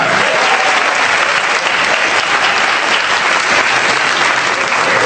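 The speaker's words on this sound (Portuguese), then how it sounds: "Tá vendo que vocês aplaudiram" A stand-up comedy audience applauding, dense loud clapping from a full room that holds steady throughout.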